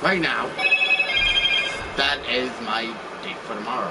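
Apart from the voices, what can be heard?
phone ringing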